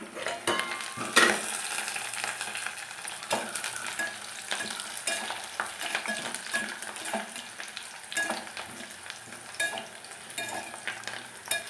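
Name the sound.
onions frying in a pan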